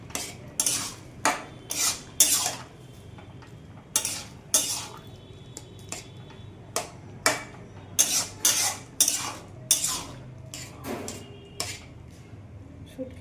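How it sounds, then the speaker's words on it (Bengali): Dried fish and vegetables stirred in a metal pot, a long series of sharp, irregular spoon scrapes and clanks against the pot with quiet gaps between strokes, over a faint simmer. "আবার নেড়েও দিলাম, আরেকটু সিদ্ধ হবে"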